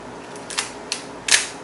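Shutter crank on a Nikon F3 film camera worked by hand, giving a few crisp mechanical clicks in a row, the last one the loudest and close by.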